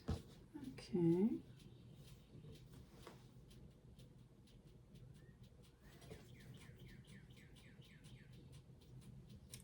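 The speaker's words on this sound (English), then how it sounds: "You hear the birds chirping outside?" Birds chirping outdoors, heard through an open window in a sewing and quilting room on a cool morning, with faint, scattered tweets and quick trilled runs in the background beneath the quiet room tone and a few brief nearby sounds.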